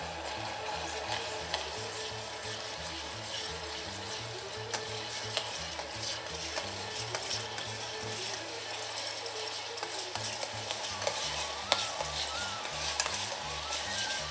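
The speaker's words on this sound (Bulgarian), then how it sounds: "Активно трябва да се бърка, котлона е силен." Onions fry in a pan on a hot stove while being stirred briskly, with repeated scraping strokes over a constant low sizzle, close and continuous for the whole stretch, without speech.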